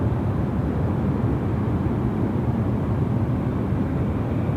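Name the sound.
AirAsia Airbus A330-300 airliner departing Sydney Airport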